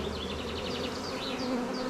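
Honeybees buzz at an open production hive while a super is being added, a dense, steady droning hum close by with wavering pitch, no talking.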